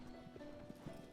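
Horse hooves thud in a soft, faint galloping rhythm in the video game Shadow of the Colossus, heard under a low steady ambient hum.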